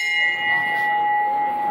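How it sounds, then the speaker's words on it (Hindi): A single bright bell strike rings out close by in an ice cream shop in Gandhinagar, its clear tone sustaining and slowly fading over a couple of seconds. "और जब भी आइसक्रीम टेस्टी लगती है तो ऐसे घंटी बजानी होती है"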